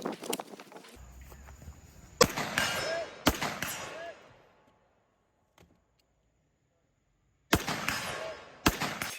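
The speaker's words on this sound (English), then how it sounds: "This is just shooting that large steel target on the right from all the ports in the VTAC board" Rifle shots, fired from a FAL through ports in a VTAC barricade board, strike a large steel target, each giving a sharp loud crack followed by a ringing clang, with a long quiet gap between the first two shots and the last two.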